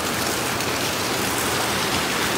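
A river at a Dominican Republic resort, its water running brownish, rushes steadily with a dense, even hiss of flowing water that stays loud and constant throughout.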